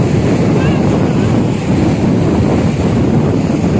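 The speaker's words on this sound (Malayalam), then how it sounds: "ഓ ഭയങ്കര വെള്ളം വന്നു" Continuous, heavy rumbling water surges with strong wind buffeting the microphone, a dense roar of surf close by with no break.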